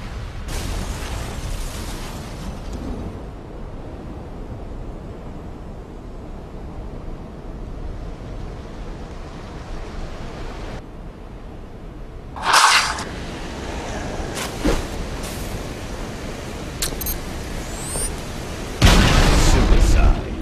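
Explosions from a glitch in a Halo video game replay: muffled booms and rumbling bursts, a sharp blast around the middle, further pops, and a final loud burst near the end over a continuous low roar.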